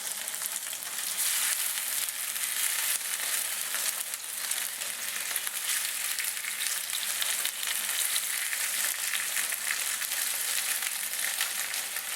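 Dumplings fry in a pan with sauce, giving a steady, bright sizzle that holds at even loudness throughout, close and uninterrupted, with no talking.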